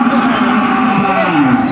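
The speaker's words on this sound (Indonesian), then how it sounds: "koleksi sapi-sapi Belgian Bintang Tani" Belgian Blue cattle low in a long, wavering moo amid a farm convoy in Bogor, heard close and loud over a busy background of people and movement.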